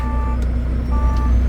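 A tractor truck idles with a low diesel rumble while a steady electronic beep sounds in two stretches, the tone cutting out briefly between them.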